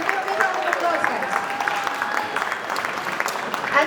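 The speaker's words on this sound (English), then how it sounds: "Yes, give them a big round of applause, guys" Crowd clapping for dancers at an Onam celebration, a continuous textured spatter of many hands at moderate loudness, with faint voices mixed under it.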